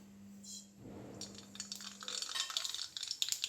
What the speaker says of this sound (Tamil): இப்போ எண்ணெய் சூடாயிடுச்சு, கடுகு போட்டுருவோம்.